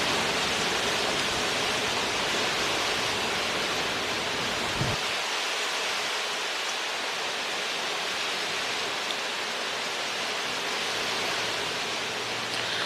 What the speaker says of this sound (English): Really sorry about the wind.